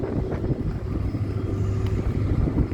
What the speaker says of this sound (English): And yes, the wind's up.